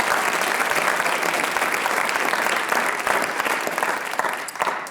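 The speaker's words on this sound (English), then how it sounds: "Can we just give them one more round of applause?" An audience at a writers' expo claps in sustained, dense applause, loud and even throughout with no break.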